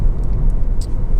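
A Honda CR-V SUV with the higher-output 1.6 i-DTEC diesel engine drives along, a steady low engine and road rumble heard from inside the car, with no talk.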